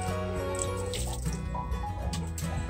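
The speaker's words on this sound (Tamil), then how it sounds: "இதுல கொஞ்சம் தண்ணி தெளிச்சுட்டு" Water being sprinkled onto a traditional stone wet grinder (attukal) in a Trichy village while soaked paper is being ground. It makes a steady, close splashing and trickling sound with a few drips and no talking.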